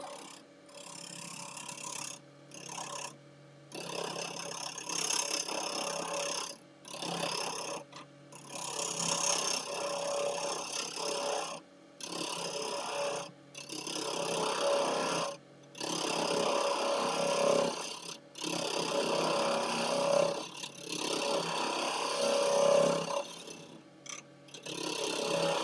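Woodturning on a lathe as a piece of wood is hollowed out, a steady whirring scrape of the cutting tool broken by frequent short pauses, close and fairly loud with no talking.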